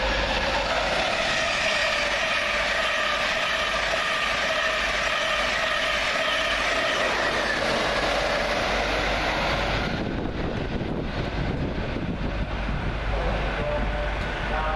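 A train rumbles through Doncaster station at length, a steady loud roar of wheels and engine with a shift in tone about two-thirds through as the carriages pass, buffeted by wind noise.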